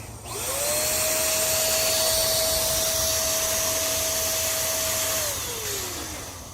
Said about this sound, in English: I have this fancy pump to fill in the air